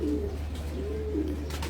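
A pigeon coos in two soft, low rolling phrases over a steady background hum, with no one speaking.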